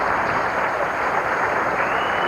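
A bowling crowd at a 1987 tournament breaks into steady applause, dense clapping that holds loud and even through the moment.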